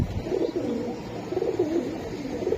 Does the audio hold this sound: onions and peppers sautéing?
no